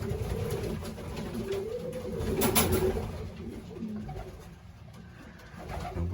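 Young racing pigeons coo repeatedly nearby on a race day, soft rolling calls over a steady outdoor hum, with no one speaking.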